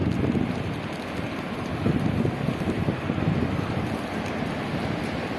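Steady, loud wind rushing and buffeting continuously during a forest fire in Belen, with a roaring, noisy rumble throughout and no voices.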